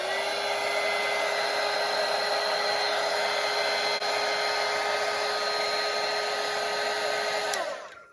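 A hair dryer blows over a watercolour painting of a winter forest, a steady close whirring hum that runs unbroken for about eight seconds before clicking off.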